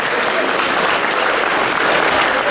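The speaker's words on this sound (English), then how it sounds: "So we'll send him a round of applause." Loud, dense applause from the crowd at a kart racing awards night, continuous clapping filling the whole moment.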